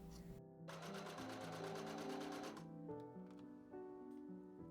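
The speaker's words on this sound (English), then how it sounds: "I serged the lining and taffeta pieces together" An overlocker with its tension out of adjustment serges lining and taffeta pieces for a Victorian ball gown, giving a steady rapid mechanical whirring run for about two seconds, then slowing and ticking to a stop, close by and fairly quiet.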